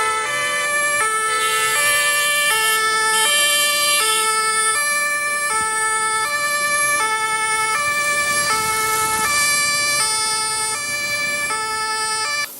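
An ambulance siren wails on a Lagos road, a loud, steady two-tone cycle repeating throughout with faint traffic beneath.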